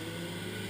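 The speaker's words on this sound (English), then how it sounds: "there's a lot of traffic on Prince Albert Road, so I'll talk louder" Steady road traffic on Prince Albert Road beside Regent's Park, London: a continuous low engine rumble and whir with no breaks and no talk.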